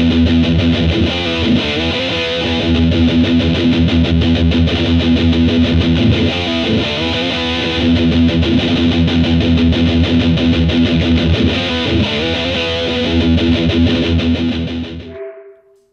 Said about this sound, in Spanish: el ecléctico Series 1 nos permite conseguir tonos metal tan agresivos y comprimidos